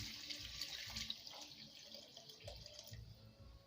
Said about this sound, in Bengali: জল আমার গরম হয়ে গেছে, এবার এই জলটা এর মধ্যে ঢেলে দেব।